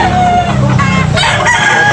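White Hatch gamefowl rooster crowing among other chickens at a busy poultry market, a loud, close crow over clucking and crowd chatter.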